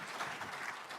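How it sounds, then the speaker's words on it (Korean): An audience at a political talk event claps briefly. Dense, even applause fills the whole short moment at a moderate level. "박수 부탁드립니다."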